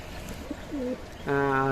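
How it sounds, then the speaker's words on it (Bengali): Lakkha pigeons at a bird sale give soft, low cooing calls, then a steadier, stronger tonal coo near the end, set against faint background noise. "এটা হচ্ছে আপনার হলো লক্ষাই কবুতর দেখতে পাচ্ছেন এই যেটা লক্ষাই কবুতর"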